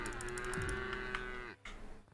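A cow in the video game Craftopia lets out a single loud, sustained moo lasting over a second, close and clear, followed by a short quiet gap and soft background game ambience.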